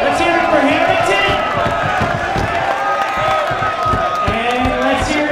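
Crowd cheering and shouting for fighter Harrington at a live comedy fight event, a loud, continuous roar of voices and whoops with scattered claps filling the room.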